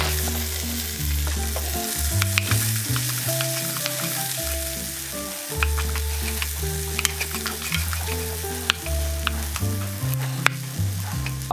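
Shrimp heads stir-fry in oil over moderate heat for Thai tom yum soup, giving a steady sizzle with scattered utensil taps. Sustained background music plays over the whole stretch.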